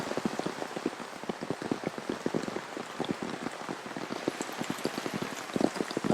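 Heavy rain pours down steadily in a Bali forest during rainy season, a dense continuous patter with sharp close drops striking leaves and surfaces throughout, no voices.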